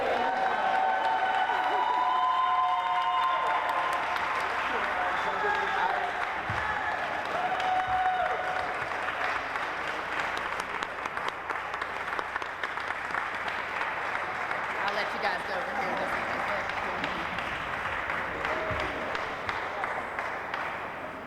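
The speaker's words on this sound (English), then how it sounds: "yes, we should clap for that" A crowd at the National Negro Opera Company opening reception in Pittsburgh breaks into loud, sustained applause, with dense clapping and a few cheers filling the room steadily for about twenty seconds, while voices murmur beneath it.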